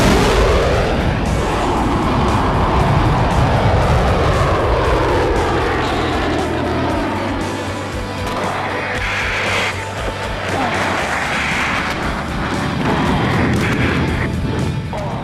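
Dassault Mirage 2000 fighter jet taking off for a solo display: a loud, sustained engine roar with afterburner rumble that rises and shifts in pitch as the jet accelerates, heard from close by throughout.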